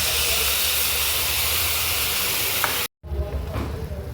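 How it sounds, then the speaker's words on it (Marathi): Tomato puree made from four tomatoes hits hot oil with a bay leaf in a pan for masala paneer, giving a loud, steady broadband sizzle and hiss that cuts out briefly near the end before resuming. "मी आधी टोमॅटोची प्युरी ॲड केली आहे।"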